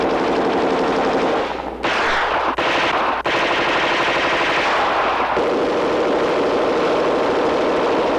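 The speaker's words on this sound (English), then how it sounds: "And now, functional firing." HK weapons fire continuously in a 1970s firepower demonstration, long sustained automatic bursts with a few brief pauses and a dense, rattling roar that eases slightly toward the end.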